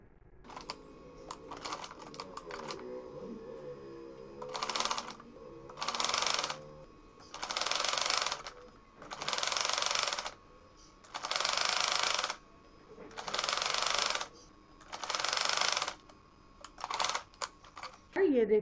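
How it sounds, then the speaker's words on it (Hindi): Sewing machine stitching a neck design on fabric, running in about six regular bursts of rapid mechanical clatter separated by short pauses, with faint handling noises and brief speech between runs. "अब हम इस तरह से करके इसको सिलाई लगा देंगे।"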